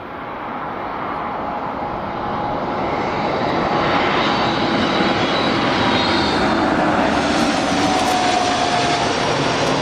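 An aircraft approaching to land at Newcastle Airport, its jet engine roar growing steadily louder and closer over ten seconds as a continuous broadband rush with a faint rising whine.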